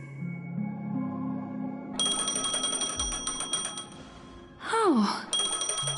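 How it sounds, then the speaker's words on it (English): Phone ringing in a video game: repeated bright electronic ring tones begin partway through and continue in bursts over a soft musical background, with a rising synth sweep near the end. "A phone."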